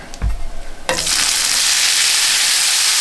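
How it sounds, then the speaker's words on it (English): A few soft knocks, then a sudden loud sizzle as onions, bell peppers and cheese hit a hot frying pan, settling into a steady, close hiss of frying. "So now I've got a hot frying pan here."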